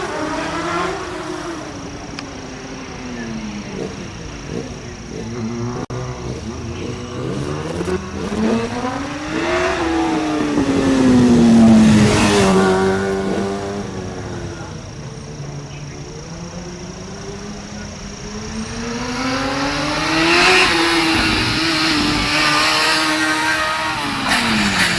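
A Honda CBR motorcycle races up the Eliyakanda hill climb, its engine rising and falling through repeated revs and gear changes as it passes, loud at times, with a second surge of acceleration near the end.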